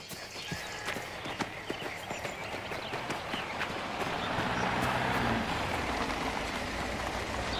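Horse hooves clip-clop in Mafia: The Old Country, a steady rhythmic run of hoofbeats that grows denser and louder as the horse is spurred, with a soft patter of rain-like noise underneath.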